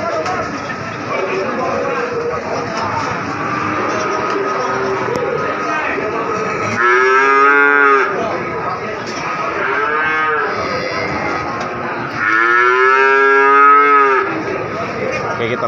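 Cattle moo loudly in several long, drawn-out calls at the Wonoasih cattle market in Probolinggo, East Java, with a constant crowd murmur and background chatter filling the spaces between them.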